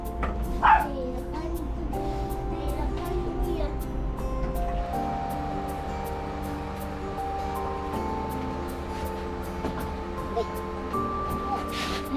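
A dog gives a short yip near the start, then soft whimpers over steady background noise and quiet talk.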